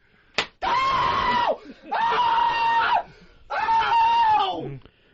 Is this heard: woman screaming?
yes